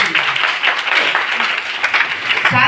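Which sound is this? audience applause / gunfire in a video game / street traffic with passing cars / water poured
audience applause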